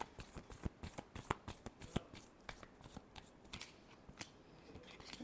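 Tarot cards shuffled by hand, a close, quiet run of crisp riffling flicks and slaps in an uneven rhythm, with no talking.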